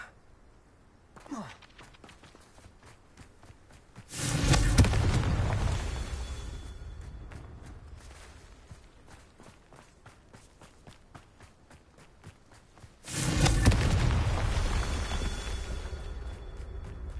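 Two heavy blasts of the Confringo fire spell from Hogwarts Legacy erupt several seconds apart, each a loud, sudden boom that rumbles and slowly fades, separated by quieter footsteps and shuffling.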